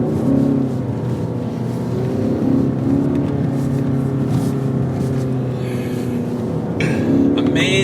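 Skoda Octavia RS drifting sideways on snow, its engine droning and revving steadily close by, with tyre and snow hiss rising near the end.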